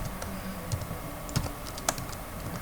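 Close keystrokes on a computer keyboard tap in an uneven stream while a welcome message is typed, with a few louder clacks standing out over a faint room hiss.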